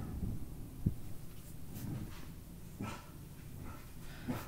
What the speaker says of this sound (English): my dogs are fighting over a bed right now